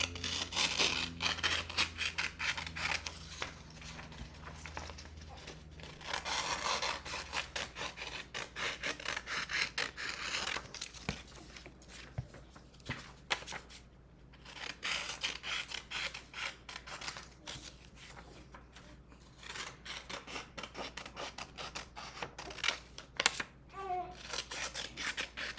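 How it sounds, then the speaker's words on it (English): Paper being cut out with scissors, close and steady: continuous rasping snips and rustling of the sheet, with brief pauses as the paper is turned and no talking. "I'm going to cut these out."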